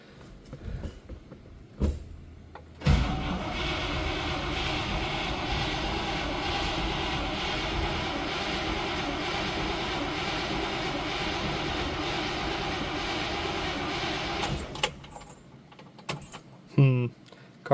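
A 1963 Pontiac Catalina's 389 engine cranks continuously for about twelve seconds as it tries to start, with clicks and clatter before and after the long churning run.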